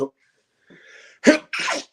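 A single sharp sneeze bursts out close by after a brief quiet, with a short vocal sound trailing right after it.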